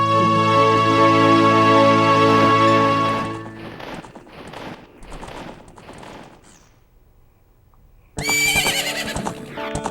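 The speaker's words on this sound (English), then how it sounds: "Pretty red horse." A horse neighs in The Legend of Zelda: Ocarina of Time, a loud whinny over game sounds for about three seconds, then quieter rustling before a bright burst of game sound returns.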